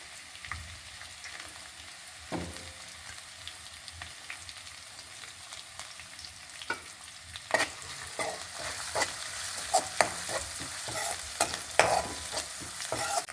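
Garlic and finely chopped green chillies frying in hot oil for egg fried rice, a soft steady sizzle that swells louder toward the end, punctuated by repeated close spoon scrapes and taps against the pan.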